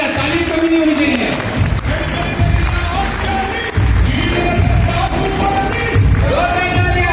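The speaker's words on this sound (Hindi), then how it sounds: "जोरदार तालियां, ताली कमी नहीं होनी चाहिए" Loud, dense applause for speaker Abhishek Joshi at a direct-selling sales event, continuous clapping mixed with a voice and music over it.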